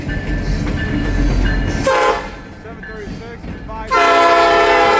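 Engines 736 and 529 pull a train past with a loud rumble, then a drawn-out, old-fashioned horn blast sounds close by. A person speaks over the passing train.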